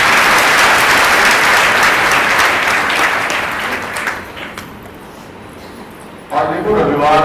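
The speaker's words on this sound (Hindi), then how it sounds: "जोरदार ताली" Loud, dense applause from a crowd at a religious katha gathering in an ashram in Burhanpur, fading out after a few seconds before a voice starts speaking.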